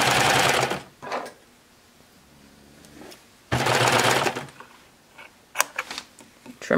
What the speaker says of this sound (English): we're just going to serge off.